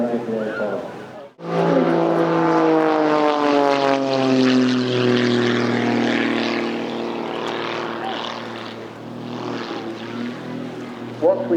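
Propeller aircraft flying past at Eastbourne Airshow, a loud droning engine rising and sweeping across as it passes overhead, with a commentator's voice over a public address system.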